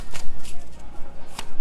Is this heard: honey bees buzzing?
no